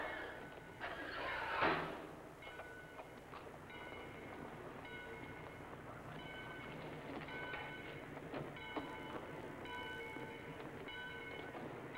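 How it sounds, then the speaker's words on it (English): A train departing from a station in a 1945 film, with a heavy clank near the start followed by steady rolling rumble, rattling wagons and faint clicking wheel rhythm, mid-distance and subdued. "Get in the train, Kelly."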